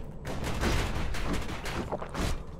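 Hand grenades go off in the video game Bastion, giving a steady run of muffled, overlapping blasts and crackling bursts that rise and fall in close succession.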